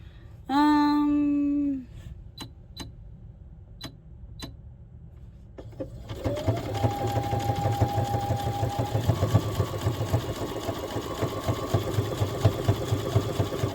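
A sewing machine stitches padded fabric for a soft figure skate guard, running in a steady close mechanical whir after a brief tone and a few sharp clicks at the start.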